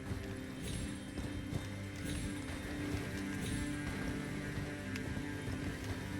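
Horse hooves galloping in the Elden Ring video game, a steady rhythmic clip-clop held at a moderate level over a dense background hum with no talking.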